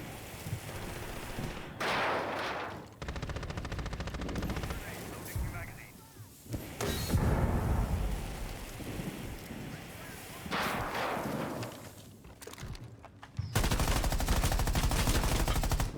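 Gunfire in Rainbow Six Siege, heavy sustained bursts of automatic shooting in loud blocks separated by short gaps, with rough wall-breaking noise mixed in and some voice underneath.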